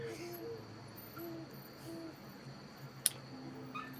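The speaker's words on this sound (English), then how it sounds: "And I heard an owl hooting" An owl hoots in soft, low, spaced calls in a wooded setting near the coast, faint and distant under insect chirps, with one sharp click partway through.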